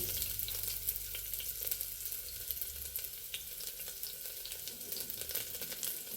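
Chopped onions fry in two tablespoons of oil in a pressure cooker, a steady, crackling sizzle close by with light stirring, and no voices.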